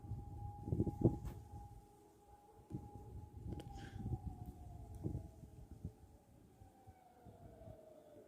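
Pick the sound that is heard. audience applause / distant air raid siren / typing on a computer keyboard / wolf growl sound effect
distant air raid siren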